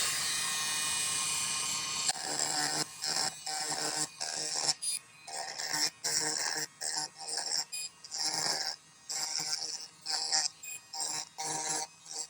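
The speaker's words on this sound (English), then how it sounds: "this makes it a little bit easier when we're using that burr to carve that out" A rotary burr carves out a ring setting for a marquise amethyst: a steady high whine, then many short bursts of grinding separated by brief pauses, close and alone.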